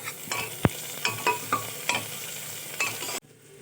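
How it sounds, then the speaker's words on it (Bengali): Onion, green chilli and garlic fry together in hot oil for chicken pulao, a close sizzle punctuated by about eight distinct spatula scrapes and knocks before the sound cuts off sharply. "তেল গরম হয়ে গেছে, আগে তো পেঁয়াজ দিয়েছিলাম, এবার দিলাম লঙ্কা আর রসুনটা। এবার একসাথে ভেজে নেব।"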